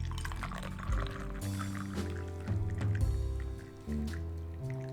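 Tea poured from a heavy vessel into a cup at a table, a steady liquid pour running for several seconds close by, with faint surface gurgles and no talk.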